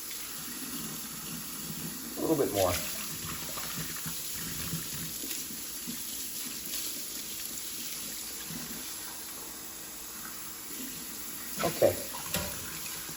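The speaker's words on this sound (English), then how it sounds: "I always rinse my rice and wash it well. And I rinse it until the water runs clear." Tap water runs steadily while rice is swished and rinsed, with a few louder sloshing bursts; a person speaks briefly over it.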